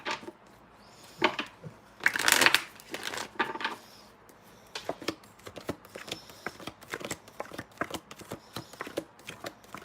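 Tarot cards shuffled by hand in a series of quick riffles and soft crackling flutters, with a denser burst early on followed by scattered light taps and rustles, close and fairly quiet with no talking.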